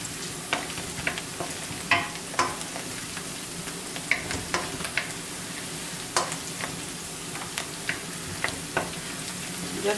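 Onion browning in a pot for a beef and cabbage stew, with a constant sizzle under repeated sharp scrapes and taps of a utensil stirring against the pot, close and fairly loud, no speech.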